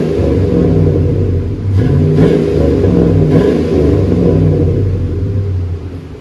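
A Chevy Silverado 5.3L V8 with a Flowmaster 44 series exhaust revs repeatedly in a loud, close, deep rumble, rising and falling in several blips over a steady idle.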